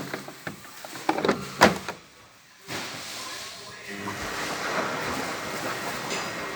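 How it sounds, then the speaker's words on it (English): A Samsung Big Wash Q1244S washing machine running a 60-degree maintenance wash on the synthetics programme, with a steady hiss of water and churning noise and a few clunks near the start, close by. "I'm currently testing this Samsung Big Wash Q1244S on synthetics"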